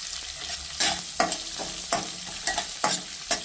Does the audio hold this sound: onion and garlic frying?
yes